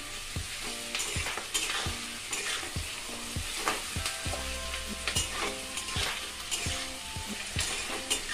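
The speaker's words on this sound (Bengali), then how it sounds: "দেখুন পেঁয়াজ আর ক্যাপসিকামটা ভাজা হচ্ছে।" Sliced onion and capsicum sizzle in a hot pan while a spatula scrapes and taps the pan in an irregular rhythm, close up and unbroken, with nobody talking.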